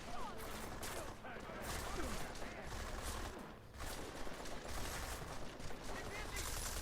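Enemy gunfire crackles in the video game Deus Ex Mankind Divided, a fairly faint spread of overlapping shots and bursts against a busy, noisy game background.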